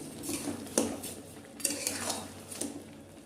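A spoon stirs sugar into tomato chutney in a pan, scraping and clinking against the metal in a few distinct strokes, close and moderately loud, with no talking.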